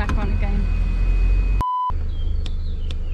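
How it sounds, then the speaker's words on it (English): An old car's airbag warning chime, a single clear beep lasting a moment, heard over steady engine rumble and cabin noise, with a voice speaking before it. "I think I've cracked the beeping."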